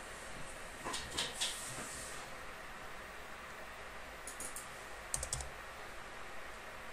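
A computer keyboard is typed on in a few short bursts of key clicks, faint and close, with quiet pauses between them over a soft room hiss.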